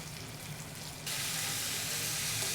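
Beef for a beef and kale stew hits a hot pot, a broadband sizzle that jumps suddenly louder partway through and holds steady, close and without talk.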